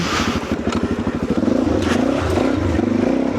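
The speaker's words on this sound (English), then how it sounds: "Got a whole bunch of revving and whatnot going on." Several motorcycles rev nearby at a gathering, a rapid pulsing engine throb that rises and falls with bursts of throttle, with some clatter mixed in.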